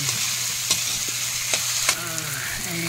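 Sliced vegetables, including white squash, are stirred and fried in a pan for a home-cooked dish. A steady loud sizzle runs throughout, broken by several sharp scraping stir strokes, with no talking.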